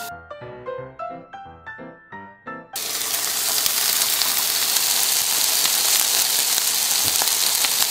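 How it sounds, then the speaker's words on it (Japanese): Pork steak sizzles loudly in a covered frying pan, a dense, steady hiss and crackle like heavy rain that starts abruptly after a few soft musical notes and carries on unbroken. "豚肉を返したら蓋をしてさらに蒸し焼きします"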